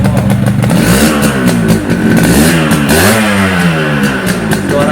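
Yamaha RX King two-stroke motorcycle engine revving hard up close, loud and raspy with rising and falling pitch sweeps and a rattly clatter throughout.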